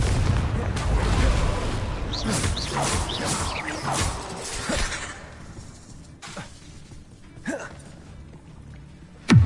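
The Confringo spell cast repeatedly in Hogwarts Legacy, a barrage of explosive bangs, crackles and crashes, loud at first, thinning out to scattered blasts, with a sharp final burst at the end.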